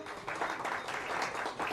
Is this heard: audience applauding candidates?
yes